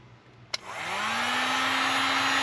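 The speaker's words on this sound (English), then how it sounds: "And then the XU1 heat gun." A click, then an XU1 heat gun spins up and blows with a steady, loud airy roar and a rising motor whine.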